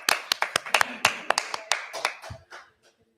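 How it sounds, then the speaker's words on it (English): A small group claps irregularly at a community energy meeting, a round of applause for an honored member; sharp, close hand claps overlap, then thin out and stop. "Let's give Mama Kake a round of applause."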